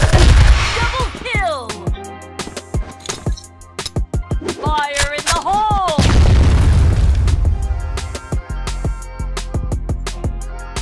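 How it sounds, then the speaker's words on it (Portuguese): A grenade blows up in a shooting video game with a heavy boom, surrounded by rapid bursts of gunfire and more sharp blasts; a player talks excitedly over the action. "Olha a granada desse nojento"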